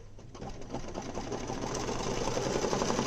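A machine sewing the placement stitch of an embroidered badge hums and clatters continuously at a fast, even rhythm, close and steady throughout with no talking.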